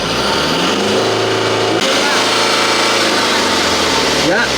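An engine revved hard during a vehicle emission test, a loud sustained roar that climbs and shifts in pitch as the throttle is opened, with people talking nearby.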